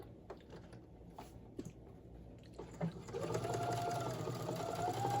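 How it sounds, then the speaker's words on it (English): Fabric being stitched with a sewing machine: a few soft clicks and handling noises at first, then the machine runs in a steady continuous whir for the last couple of seconds. "And I'm going to sew 1/4 inch up the side."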